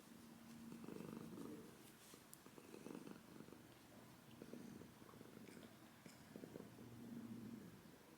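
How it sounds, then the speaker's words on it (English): Stella the cat purring close up, a soft low rhythmic rumble rising and falling in slow breaths, continuous and alone without any talk. "Can you hear her purring?"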